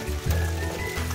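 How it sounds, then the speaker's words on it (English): Steady hiss of rain falling on the Lime Kiln Trail, a constant wash of patter with a low rumble underneath and no voices. "Okay, it's raining."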